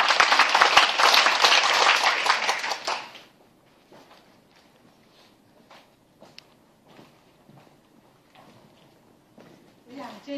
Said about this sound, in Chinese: 请掌声欢迎两位。